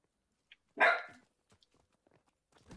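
A single short, sharp bark-like yelp from a human voice imitating a dog during online game voice chat, followed by faint scattered noises.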